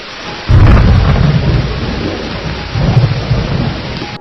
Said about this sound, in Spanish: La lluvia decrecía por instantes para recobrar fuerzas y adquirir proporciones de tormenta.